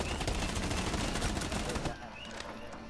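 Dense bursts of gunfire in Rainbow Six Siege, a loud continuous rattle of rapid shots that abruptly drops away near the end, leaving a quieter background.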